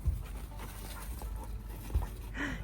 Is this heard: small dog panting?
yes